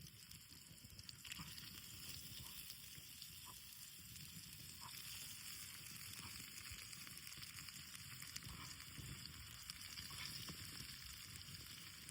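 Marinated slices frying on a hot griddle at a hilltop night campsite in the Malenad region, a steady, moderately loud sizzle and crackle running throughout with no talking.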